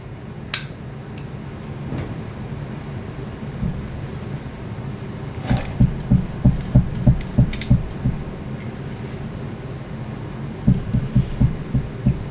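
A dead blow mallet taps a cover onto a TRS pump during a rebuild: a series of dull, muffled knocks in quick bursts, close and moderately loud, over a low steady hum.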